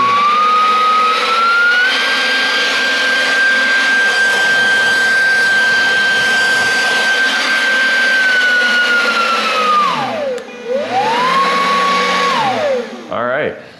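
A budget electric leaf blower runs indoors in a workshop, whining loudly and stepping up through its speed settings before winding down, briefly spinning back up, then cutting off.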